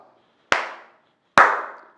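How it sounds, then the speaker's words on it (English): Two sharp hand claps, about a second apart, each ringing out briefly in a quiet room, loud and close with no other sound between them. "when you clap"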